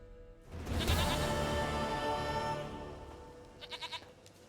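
Goat bleating in the video game The Witcher 3: The Wild Hunt, one long wavering bleat followed by a short quavering call, close and clear with no talking.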